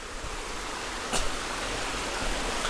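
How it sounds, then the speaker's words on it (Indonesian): Steady broadband rush of the Tanjung Asap waterfall, a tourist site in Palakka village, with one brief louder splash partway through and no voices. "Jadi kayak gini air terjun yang ada di sini."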